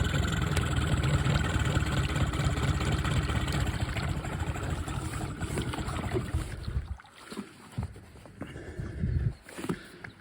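A Mercury 8hp two-stroke outboard runs steadily at a fast buzzing idle on its first spring start, close and loud, then cuts out near the end, leaving scattered knocks and handling noises.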